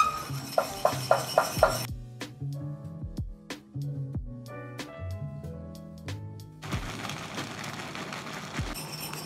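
A utensil clinks against a pan in a quick run of taps as béchamel sauce of milk is stirred until it thickens, then gives way to softer tonal background sounds.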